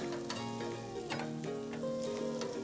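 Seasoned baby carrots sizzle steadily in a hot pan, a bright, crackling fry that carries on without a break and with no voices over it.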